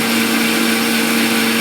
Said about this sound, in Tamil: எல்லாத்தையும் சேர்த்து மிக்ஸியில் அரைச்சி எடுத்துக்கலாம்.